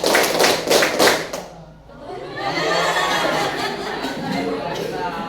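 Students clapping in a classroom clapping game, a few sharp rhythmic claps in unison, then a softer spread of clapping mixed with chatter and chuckles.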